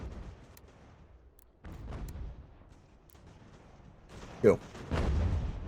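Cannon volleys from an American Revolution battle in Ultimate General, with dull booms and rumbling blasts spread through the passage and a sharp burst near the end, a voice speaking briefly over the din.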